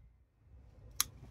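Scissors snip once through a branch on a cascade Chinese Elm bonsai, a single sharp close cut standing out against quiet background hum.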